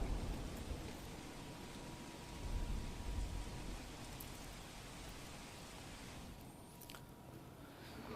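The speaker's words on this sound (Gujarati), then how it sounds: "ગાજવીજ અને પવન સાથે ધોધમાર વરસાદ આવ્યો છે" Heavy rain pours in Gujarat, a faint, continuous wash of dense rainfall with a low rumbling undertone, steady and fairly distant with no voices.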